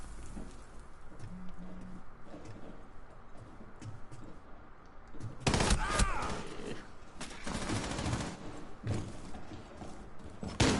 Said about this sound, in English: Come on, Maestro, compose us a winning symphony with your bullets.